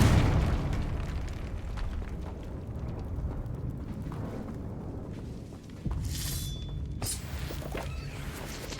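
A Confringo explosive spell from Hogwarts Legacy, a rumbling blast followed by crackling debris. A second sharp burst and a bright ringing tone come near the end, all at a moderate level.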